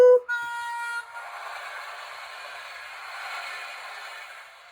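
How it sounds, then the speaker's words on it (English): A toy sound book's electronic train effect plays alone, a short sharp tone followed by a sustained buzzy whistle-like blast with a steady rumble, fading slightly at the end. "Find the train and ice cream van pictures on the buttons to hear what noise they make."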